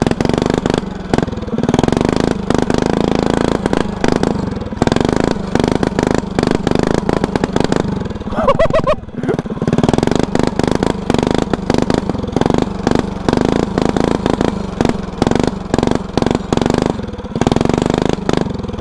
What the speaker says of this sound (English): that rev limiter is freaking annoying